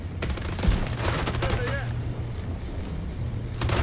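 Gunfire during a firefight in The Division 2, a dense run of rapid shots and bursts that carries through the whole stretch under the rumble of game ambience, with people talking over the action.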